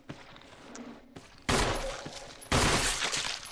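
Gunshots fired at zombies in Resident Evil HD, two loud, close blasts about a second apart, each trailing off into a ringing decay after some quieter handling noise.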